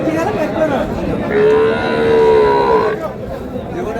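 A cow with her calf at the Raniganj cattle market in Dinajpur lets out one drawn-out moo, close and clear, amid the murmur of bargaining voices and crowd chatter.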